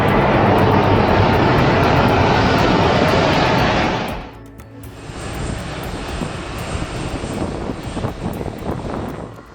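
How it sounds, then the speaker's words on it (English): A formation of South African Airways Airbus A340s passes at an airport with a loud, broad jet engine roar that drops sharply partway through, then continues as a lower, rough rumble. "A formation of South African Airways 345s."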